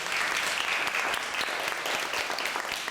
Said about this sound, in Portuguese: Ó, palmas pra turma!